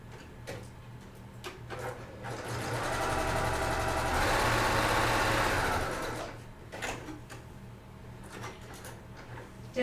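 Sewing machine stitching a small quilted jelly roll coffee cozy, a steady fast mechanical hum that rises in the middle, swelling for about four seconds before easing back to lighter clicking runs, with no voices.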